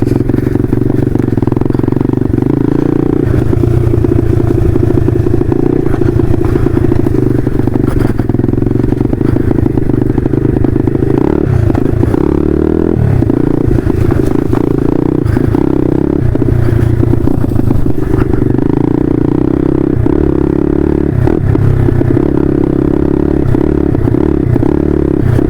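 A motorcycle rides along a slippery trail full of small holes in winter, its engine droning steadily and loudly throughout, with the pitch rising and falling alongside rattling and scraping from the bumpy ground.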